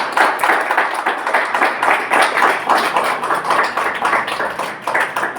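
Church congregation clapping louder in praise during a Spanish-language service, many hands striking in a strong, regular rhythmic beat, loud and close, with no talking.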